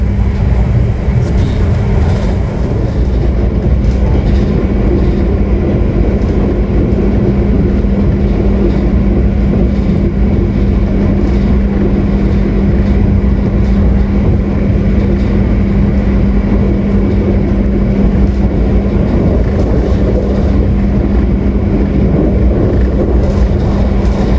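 Continuous low rumble of the Taksaka passenger train rolling along the rails, heard from inside the carriage, steady and droning with a faint hum throughout.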